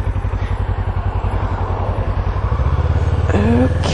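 A motorcycle engine runs close by in a steady, loud pulsing rhythm, with a short rising whine near the end, no speech over it.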